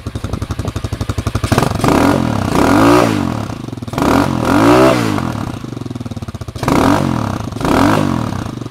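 A Tao Motors TBR7 motorbike with its catalytic converter removed revs loudly and close up in repeated bursts, its engine rising and falling about three times with a rough, clattering exhaust between throttle blips.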